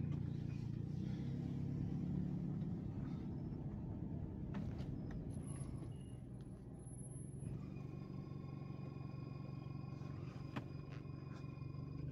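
A car pulls away after being shifted into gear on a street in Braddock, Pennsylvania, its engine a steady, loud low rumble heard from inside throughout, with a few faint clicks and a brief high whine partway through.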